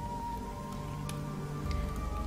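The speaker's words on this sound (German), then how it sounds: "Und es regnet." Steady rain patters in the video game Risen, a soft even hiss with faint scattered drops, continuous and alone throughout.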